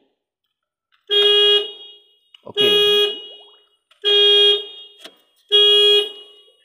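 A car alarm sounds through the horn in four long, loud blasts spaced about a second apart, with short clicks between and a brief spoken word.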